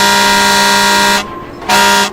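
A truck horn blares loudly and close as the vehicle passes on a road, one long sustained blast, a brief break, then a second blast.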